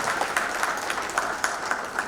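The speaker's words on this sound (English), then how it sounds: "Let's have a big round of applause for everyone present here" Applause from the audience at an awards ceremony, a steady wash of clapping with sharper claps popping out at intervals, moderately loud and continuous throughout.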